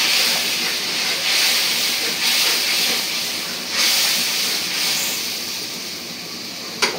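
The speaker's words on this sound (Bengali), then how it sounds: "মশলাটা কষাই নিব।" Ginger-garlic paste is sautéed in a pan in a village-style kitchen, producing a broad, steady hissing sizzle that swells and fades in waves as it is stirred, ending with a small clink.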